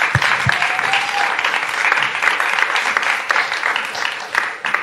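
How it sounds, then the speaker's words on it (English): Steady applause from a crowd, a dense wash of clapping that holds at an even level throughout, with a few brief voices mixed in. "Can we give a round of applause for that and recognize that?"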